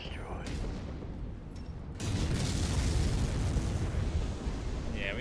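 An enemy radar dish blows up in Mechwarrior 5, a sudden broadband blast at about two seconds that swells into a sustained loud rumble and roar of burning debris, following a steady mechanical drone.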